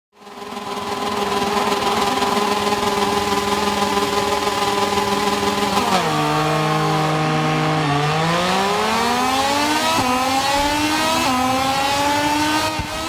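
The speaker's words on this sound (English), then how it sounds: "Let's fire up the bike and get straight into the action." Motorcycle engines in a MotoGP 25 race at COTA: a loud, sustained high-pitched whine that fades in, holds, dips sharply as the rider shifts down around mid-clip, then climbs steadily again, with no voices.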